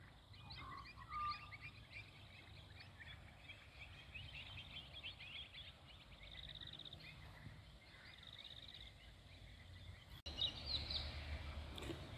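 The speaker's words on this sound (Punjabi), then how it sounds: "ਦੇਖੋ ਚਿੜੀਆਂ ਬੋਲਦੀਆਂ।" Sparrows chirp in a park at evening, a faint scattered twitter of small birds over a low, steady outdoor background, with a slightly louder burst near the end.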